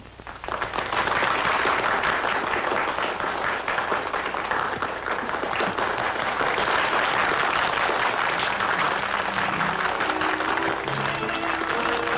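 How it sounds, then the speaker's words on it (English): Stadium crowd applause at a 1938 fight stadium, dense continuous clapping that swells quickly and holds loud and steady with no break, heard up close, with a faint low musical tone creeping in near the end. "Listen to that applause."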